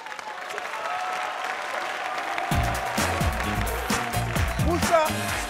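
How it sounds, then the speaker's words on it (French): Applause from an audience at the Parlement du Rire stand-up comedy show, a dense wash of clapping that starts partway through and swells loudly near the close, with faint voices mixed in. "Donc faites beaucoup d'applaudissements"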